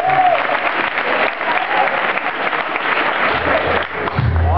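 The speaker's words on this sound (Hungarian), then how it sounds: "Köszönjük, de nem kértünk tapsot" Applause from a live stand-up comedy audience, a sustained loud wash of clapping from a crowd that holds steady throughout, with a few voices mixed in.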